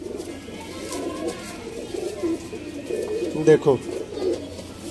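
A pair of Sialkoti chuhay pigeons cooing in soft low murmuring bursts, close by, with a voice speaking over them.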